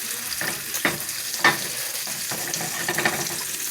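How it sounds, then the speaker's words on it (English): Food sizzles steadily in hot melted butter and oil in a pan, a dense crackling hiss with occasional sharper pops, close up and with no voices. "Oh, look at that sizzle."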